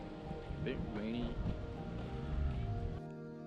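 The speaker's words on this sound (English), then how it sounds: "A bit rainy." Light rain at a hilltop lookout in Melbourne's Dandenong Ranges, a soft steady patter under muffled voices and outdoor background noise.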